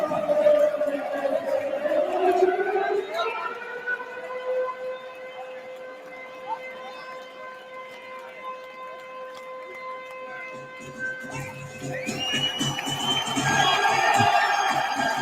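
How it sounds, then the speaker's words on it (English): A wailing siren holds a long steady tone with rising and falling pitch, clear and fairly loud, over a murmur of background crowd noise. "Listen to this siren chat, it's haunting."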